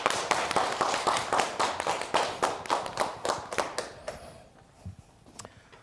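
A studio audience at a televised lecture on shoulder pain applauds in a dense burst of close clapping that thins out and fades over several seconds.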